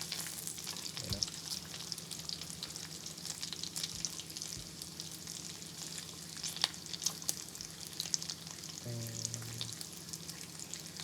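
Bacon fries in a pan with a continuous crackling sizzle and scattered pops, close and steady throughout, with a brief low tonal hum near the end.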